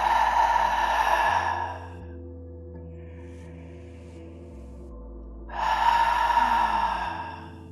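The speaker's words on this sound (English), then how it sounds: "take 3 deep breaths, and with each exhale, let it out with a sound or a sigh." Deep breaths are exhaled aloud in a guided relaxation, with two long, breathy sighing exhales close to the mic separated by a quiet pause, no talking.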